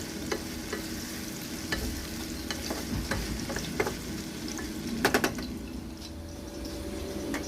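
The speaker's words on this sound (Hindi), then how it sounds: "भिंडी को मैंने थोड़ा सा और चलाया है ताकि लगे नहीं" Okra fries in a pan with a low steady sizzle. A spoon gives light, irregular taps while stirring it, and a quick burst of clinks comes near the end. Nobody speaks.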